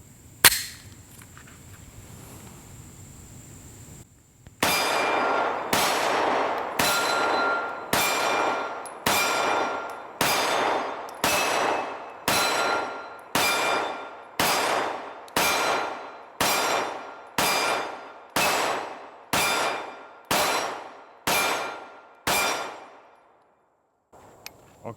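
Springfield Echelon 4.0c pistols fire about sixteen evenly spaced, sharp shots at a range, each ringing briefly, after a quiet lead-in, with the string stopping abruptly near the end.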